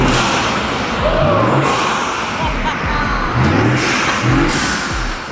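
A BMW G90 M5 fitted with a custom intake revs in several short, loud blips, its engine note rising and falling in quick bursts over a busy mechanical background.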